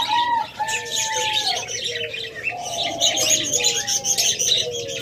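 A pair of albino pet birds coos and chirps close by in short, repeated calls, with occasional wing flutters and other birds in the background.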